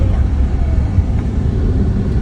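A tricycle passes by on a street, a low engine rumble that holds steady over the short span without talk.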